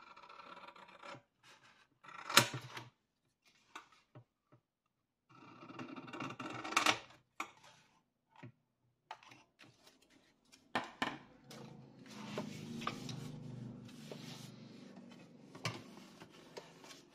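Scissors or a blade cut through cardboard for a handmade album cover, giving short scratchy rasps and soft ticks in quiet bursts, then a steadier low scraping toward the end.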